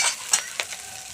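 Fresh new potatoes hit a hot pan and sizzle, with a few short scraping stirs breaking through a steady frying hiss.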